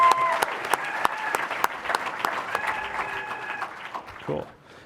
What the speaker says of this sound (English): Let's have a big round of applause for Andy.